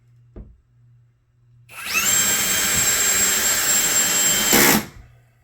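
A power drill drives a screw into a wall stud with a steady, loud, close whine lasting about three seconds, preceded by a brief knock and ending abruptly.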